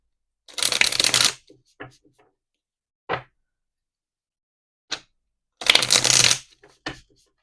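Tarot timing cards being shuffled, two loud riffling bursts close up, separated by light taps and soft card knocks.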